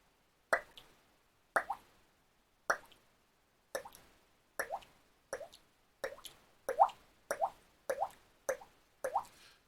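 A voice imitates a water drop with the mouth, producing eleven separate hollow plopping pops at a slow, fairly even pace, close and isolated against near silence.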